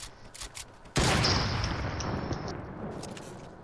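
A loud burst of rapid gunfire in Fortnite erupts after a quieter opening, sustained crackling shots that continue and slowly ease off.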